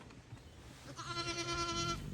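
A lamb in a pen gives a single clear bleat in the second half, close and fairly loud over a quiet background of low rustling.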